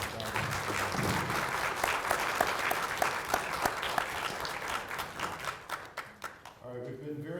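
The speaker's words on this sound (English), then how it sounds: "Let's give a big round of applause for Charlyn." Conference audience applauding, with dense clapping from a sizable crowd that rises and then thins out toward the end while a voice speaks over it.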